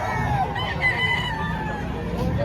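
Chickens and roosters at a poultry market in Padre Garcia, Batangas, clucking and crowing in a busy chorus, with crowd murmur and nearby voices throughout.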